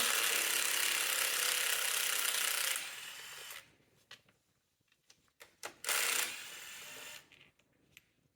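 A 10 mm ratchet turns the valve cover bolts on a 2002-or-later Mini Cooper, first as a steady, close clicking run, then as short bursts of ratcheting and a few metallic taps.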